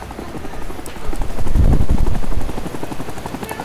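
Loud, dense gunfire and a heavy rotor-like rumble from the Vietnam War shooter game Rising Storm 2: Vietnam, a rapid burst that swells and then tapers off.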